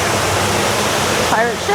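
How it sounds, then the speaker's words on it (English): At Europa-Park, a water coaster ride throws up spray, making a loud, continuous rushing splash like a waterfall. Brief squeals of riders rise near the end. "This one's a water coaster as well"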